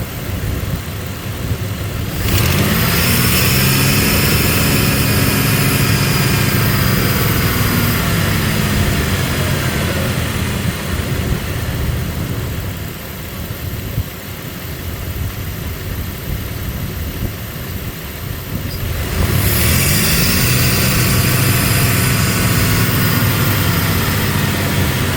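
A 1998 Dodge Dakota engine idles and revs in two loud surges at the start and near the end, with a rising, falling drone and a steady rumble under a hissy, airy intake whoosh between them.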